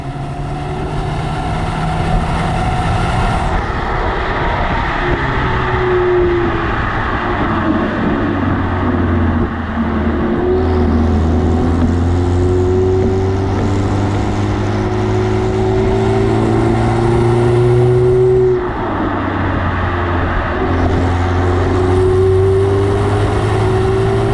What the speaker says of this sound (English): we're going to now switch it into sport mode and see how the car performs